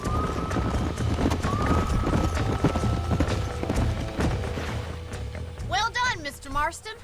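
Horses' hooves clip-clop steadily across the ground in the video game Red Dead Redemption, a repeating rhythmic patter under a faint whinny, with someone speaking near the end.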